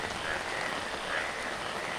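Frogs croak in the rain on a rooftop garden, a few faint calls rising over a steady, dense hiss of rainfall.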